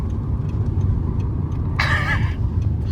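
An Audi TT with badly worn wheels and poor tracking rumbles along steadily, and its tyres let out a brief high squeal partway through.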